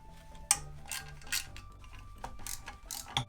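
A ratchet working the 10mm bolts on a Subaru STi oil pan baffle, close metallic clicks and short ratcheting bursts with sharp taps between them, irregular and fairly quiet.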